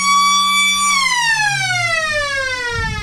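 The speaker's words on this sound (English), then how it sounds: "Siren has just sounded to signal 3/4 time here on BFL Game of the Round" A loud, sustained siren at a country football match marking three-quarter time, holding a steady tone and then sliding downward as it winds down, with faint crowd noise underneath.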